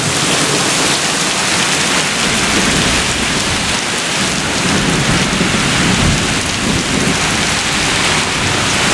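Heavy rain pours down steadily during a severe thunderstorm in Brooklyn, New York, with a low rumble of thunder swelling in the wash; loud, close and unbroken, with no voices.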